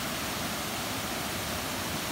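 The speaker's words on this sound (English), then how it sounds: "It's a cunning waterfall." A river waterfall with spillways produces a constant, broadband rushing roar, steady and fairly close, with no voices over it.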